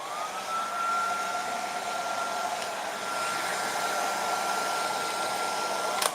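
A heat gun running on its higher 2 setting for shrink wrapping blows a steady, loud, close airy roar with a constant whine, holding even throughout before a brief click at the end.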